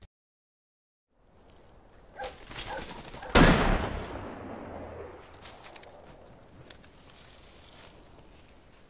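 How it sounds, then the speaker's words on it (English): Rifle shots ring out during a hunting scene in the film Snowden: after a near-silent start, a few sharp reports crack in quick succession, the loudest one leaving a long echoing tail that fades away. "Great shooting, Ed."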